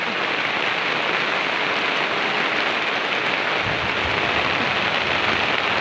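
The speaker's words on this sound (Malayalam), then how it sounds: "നല്ല മഴ" A downpour drums continuously on the ground and plants of a garden during a thunderstorm, loud and unbroken, with a slightly deeper rumble swelling near the end and no one speaking.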